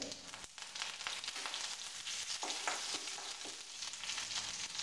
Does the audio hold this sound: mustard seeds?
yes